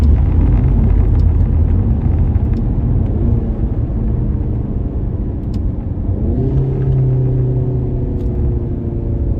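Engine and exhaust of a Roush-tuned Ford Mustang with the 2.3L EcoBoost, heard from inside as it downshifts near a traffic light: a loud, steady rumble whose pitch shifts partway through, continuous and unbroken by voices.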